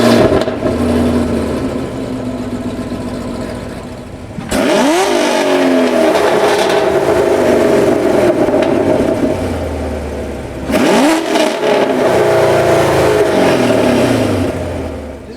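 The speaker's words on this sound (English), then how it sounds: "that's a factory quad NPP exhaust" A 2020 Camaro LT1 with a factory quad NPP exhaust is revved twice, each burst a loud, deep roar that rises sharply and then settles back to a rumbling idle, with no talking.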